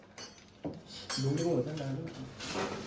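Dishes and plates are handled in an office kitchen, with a few clinks and scrapes, then a sustained clattering rub. A voice speaks in the background.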